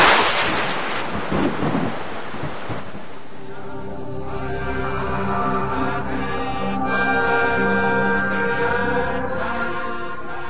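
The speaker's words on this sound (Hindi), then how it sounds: "केदारनाथ में भी बारिश शुरू हो गई।" Heavy monsoon rain with thunder at Kedarnath in Uttarakhand: a loud thunder crash opens and rumbles for several seconds before fading into a steady downpour.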